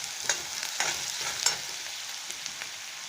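Chopped onion frying in oil with bay leaf, dried red chilli and cumin, a steady close sizzle broken by several light spatula scrapes and taps, with no talk.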